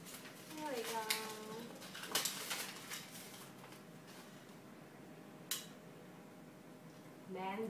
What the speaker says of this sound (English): It's angry bird.